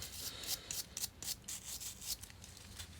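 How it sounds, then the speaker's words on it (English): Scraping crust off an old, crusty barn-find motorcycle bolt, a series of short rasping scrapes repeated in an uneven rhythm, close and fairly quiet. "I need something to scrape the crust off here"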